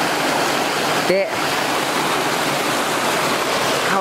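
River flowing beside a campsite at Doshi no Mori, a steady loud rush of water filling the whole scene, with a brief spoken word cutting in near the middle.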